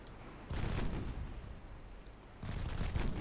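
Naval 6-inch guns fire in a dreadnought warship game, two heavy booming salvos with rumbling tails, close and loud, no talk.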